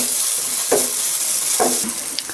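Chicken sizzles as it grills for homemade shawarma, a continuous close crackle broken by a few brief stirring or scraping sounds.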